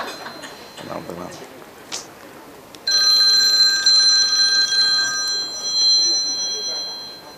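A mobile phone rings partway through a religious lecture in a hall, a steady electronic ringtone with repeating tonal pulses that starts loud and then fades. Room noise and a brief voice come before it.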